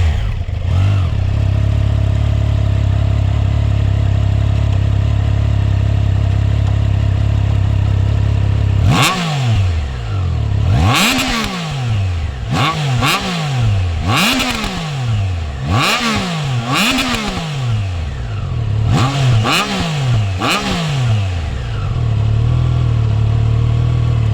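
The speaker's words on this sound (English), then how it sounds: "the Triumphs with their legendary triples have always sounded amazing" A Triumph Trident 660 three-cylinder motorcycle engine idles, then revs hard in a series of sharp throttle blips that rise and fall back, loud and close.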